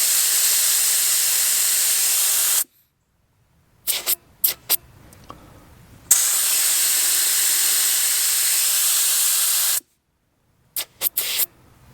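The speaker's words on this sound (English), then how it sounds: "you can see how rapidly that's deflating that tire with the valve core out" Air rushing from a tire through a rapid tire deflator with the valve core out, a loud close hiss in two long bursts, each cut off abruptly and followed by brief clicks and handling noises.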